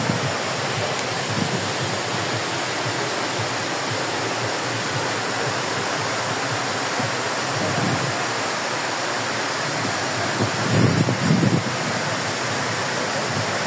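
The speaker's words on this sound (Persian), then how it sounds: "آبشار بی‌نظیر بیشه،" Bisheh waterfall roars as a dense, steady rush of falling water that fills the whole clip loud and unbroken, with slight low surges near the end.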